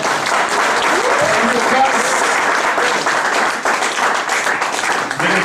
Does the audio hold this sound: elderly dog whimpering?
no